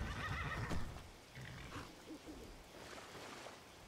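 A horse in the Skyrim video game gives a short whinny at the start, followed by quieter snorts and shuffling.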